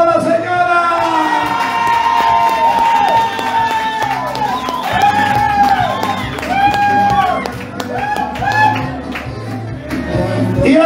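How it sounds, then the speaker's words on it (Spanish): Festival crowd at an outdoor terrace show in Chile, cheering and shouting loudly and steadily over thumping live music, with some clapping mixed in. "¡Aplauso para la señora!"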